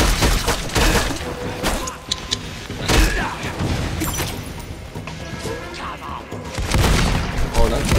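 Gunfire and crashing impacts in the shooter Lost Planet 2, loud bursts and booms scattered across the stretch over a busy, noisy battle bed, with sharp hits near the start, middle and end.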